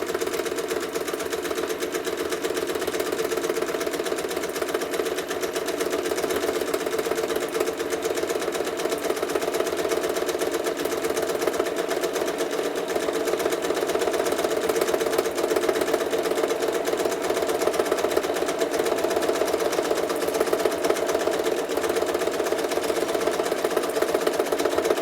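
A sewing machine quilts feather designs with 100-weight thread, running in one long, steady, even hum throughout.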